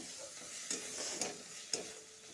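Onion frying in a pan with ground coriander and cumin, being stirred: a steady soft sizzle with a few sharper scraping stir strokes, close and alone without voices.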